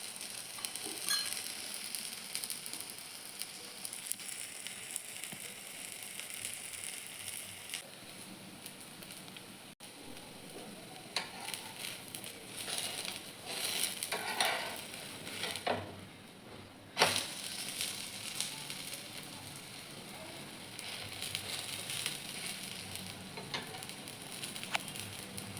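A wheat-flour breakfast fries in oil in a pan at home, sizzling steadily and fairly loud throughout, with occasional scraping and stirring noises and a brief lull partway, and no voices.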